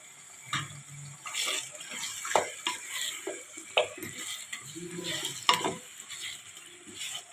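Marinated chicken stirred into fried masala for chicken biryani: a spoon scraping and clinking against the pot amid a soft, steady sizzle, with irregular stirring strokes up close.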